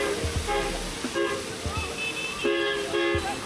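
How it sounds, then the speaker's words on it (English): A loud foghorn-like horn sounds during a night ride on an ebike, several tonal blasts with wavering pitch rising over wind and street noise, while riders talk nearby. "That's an insane horn."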